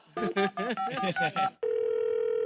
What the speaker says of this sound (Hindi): दूसरे कॉलर को फोन लगाते हैं और पूछते हैं उनके मन के सवाल।